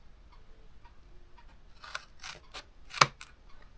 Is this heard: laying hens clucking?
no